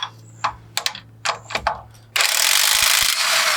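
An impact gun works a 17mm lower shock bracket bolt during a heavy-duty suspension upgrade: several short ratcheting bursts and clicks first, then a sustained loud hammering rattle that runs to the end.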